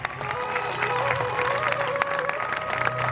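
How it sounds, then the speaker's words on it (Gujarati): An audience applauds after a stage performance at a Hanuman Chalisa show, dense steady clapping throughout, with a faint sustained tone running underneath. "પરફોર્મન્સ માટે ફરી એકવાર તાળીઓ થઈ જાય."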